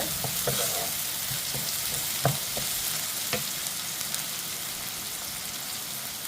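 Vegetables sauté in a pan with a pinch of salt, giving a steady close sizzle. Occasional scrapes and taps from stirring break through, and no one speaks.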